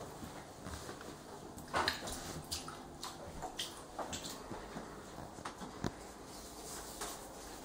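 Water overflowing from a laundry sink with clothes left in it, a steady wash of running and splashing water with scattered drips and patters close by, no voices.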